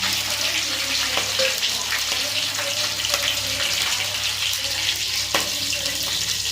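Curry leaves frying in hot oil just after mustard seeds have popped, a constant loud hissing sizzle with a few small pops, close and unbroken, no talk.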